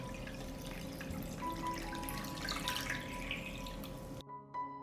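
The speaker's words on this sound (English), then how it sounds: "I pour water up to the height of the lid" Water pours steadily into a pot holding jars of plums, a continuous splashing rush that runs for about four seconds before cutting off abruptly, with a faint clink afterward.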